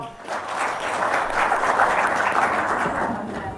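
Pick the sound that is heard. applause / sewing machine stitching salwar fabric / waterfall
applause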